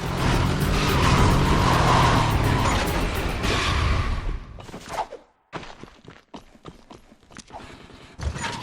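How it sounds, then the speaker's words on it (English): The Dust Demon car skids without traction in the video game Jak 3, with a loud sustained engine rumble that cuts out abruptly, followed by choppy bursts of driving and impact noise. "the Dust Demon. This car is terrible. It has absolutely no traction, as you can already start to see."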